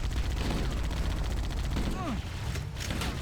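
Rapid automatic gunfire from the video game Halo: Combat Evolved, a loud stream of fast repeated shots with a brief whizzing sound partway through, continuing across the full stretch.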